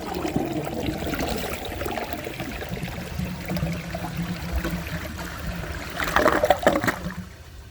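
A 1999 Universal-Rundle Atlas comfort-height toilet flushes a washcloth, a rushing swirl of water that churns for several seconds, surges near the end, then drains away.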